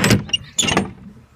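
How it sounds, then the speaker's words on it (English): A shed door swings shut in a storage shed holding old cabinets, giving two close, loud knocking thuds about half a second apart, then quiet room tone. "I have to close the door."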